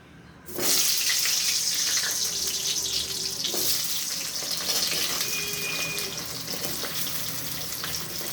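Chopped onion dropped into hot oil with bay leaves for chili chicken, bursting into a loud, steady sizzle that continues without letup.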